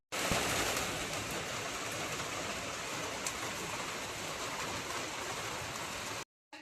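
Steady rain pours onto a rooftop terrace lined with potted plants, washing mud away, as a dense, even hiss that runs unbroken for about six seconds before cutting off abruptly.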